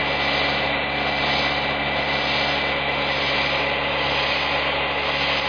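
A vehicle engine idles with a fuel efficiency system switched on, a loud, constant close drone with a steady hum and no change in pitch.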